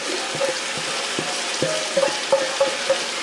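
Chopped carrot, celery, onion and garlic fry in oil on top of browned beef for osso buco, giving a soft, steady close sizzle dotted with small pops and crackles.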